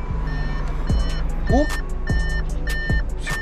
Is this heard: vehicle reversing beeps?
yes